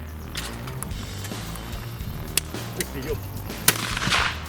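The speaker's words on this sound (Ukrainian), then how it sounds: "Далі я по черзі буду показувати всі влучні чи не дуже влучні постріли, які мені вдалося зняти на камеру." Gunshots ring out at a hunting shooting tournament, several sharp separate reports spaced a second or so apart over a steady outdoor background, with faint voices in between.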